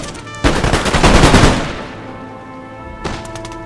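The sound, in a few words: musket volley fire in video game Napoleon Total War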